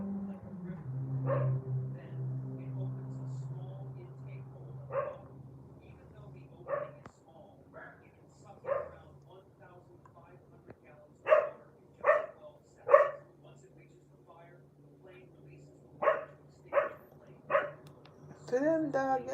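A dog barks in short single and paired woofs spaced through a quiet indoor setting, moderately close, alternating with stretches of someone talking.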